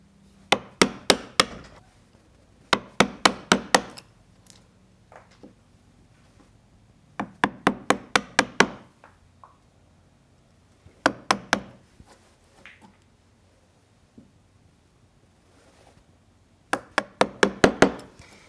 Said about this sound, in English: So the next step is to knock the waste out of this opening.